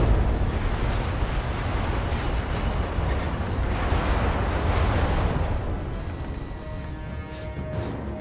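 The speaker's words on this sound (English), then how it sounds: "There's something firing from over here." Mech weapon fire and explosions in the Battletech video game, a dense, continuous barrage of booms and blasts rumbling loudly throughout with no pauses.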